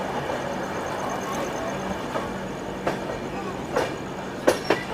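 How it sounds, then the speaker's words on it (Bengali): A passenger train runs steadily after pulling out of Bhubaneswar Junction, with a continuous rolling rumble and a few sharp clicks and knocks from the wheels near the end. "ট্রেনটা ছেড়ে দিল ভুবনেশ্বর জংশন"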